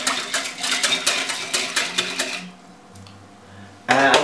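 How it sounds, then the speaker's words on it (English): A whisk clatters rapidly against a bowl while stirring yeast with milk and sugar, giving a busy metallic ticking for a couple of seconds before going quiet, then a brief loud burst of clinking at the end. "give it a little whisk"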